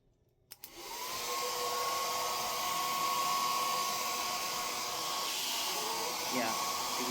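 A hair dryer switches on with a click and blows steadily at close range, a loud continuous whooshing whine that holds for several seconds.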